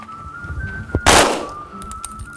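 A gun fired at a sport shooting club near Londrina, one loud sharp report cutting through a quiet scene with a faint whistling tone behind it.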